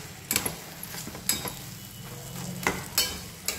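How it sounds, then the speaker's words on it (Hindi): Mashed boiled potatoes fry with spices in a pan for aloo matar, giving a continuous moderate sizzle with repeated stirring scrapes and clicks at irregular intervals. No voices are heard. "अब इसमें हम बॉईल किए हुए आलू जो हमने मैश करके रखे हैं वो आलू मिक्स कर देंगे।"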